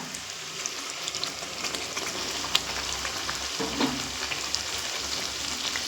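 Ground spice paste with turmeric frying over a medium flame, a steady hissing sizzle like light rain with occasional soft stirring clicks, close and unbroken.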